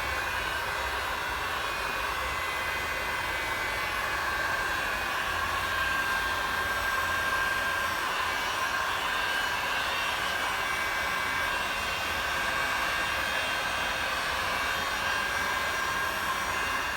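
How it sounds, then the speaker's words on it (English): A heat gun blows continuously to speed paint drying on the outer sill of a classic Mini Clubman under restoration, giving a steady, loud, unbroken airy roar with no talking. "a little top tip when it's cold outside is get your heat gun on"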